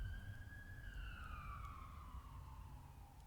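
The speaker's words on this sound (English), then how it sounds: "do you hear the siren?" A distant siren wails with a slowly falling pitch, heard faintly over a low, steady traffic rumble.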